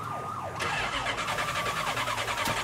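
A shot-out, damaged car engine in Mafia 3 straining and sputtering loudly and close, a rough revving drone with a steady pulsing rhythm and pitch sweeping up and down, no voices.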